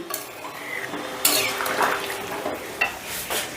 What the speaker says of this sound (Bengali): এবার জলের সঙ্গে মশলাটা চিকেনটা একটু ভালো করে মিশিয়ে দিচ্ছি।